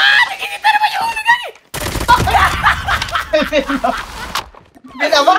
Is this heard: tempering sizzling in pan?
no